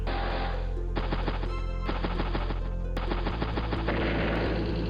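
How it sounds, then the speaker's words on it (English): A medium tank attack in Advance Wars: Days of Ruin plays as a rapid mechanical burst of gunfire, with many quick rattling shots over a steady electronic game tone. "Medium tank does get a good strike there."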